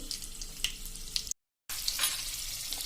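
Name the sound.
fenugreek seeds and chillies crackling in hot oil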